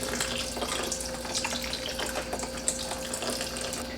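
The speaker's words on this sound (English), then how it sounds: "And then I'm gonna fill the rest up with water." Tap water runs steadily into a container of berries soaking in white vinegar, a continuous bright splashing and gurgling that stays loud and close throughout.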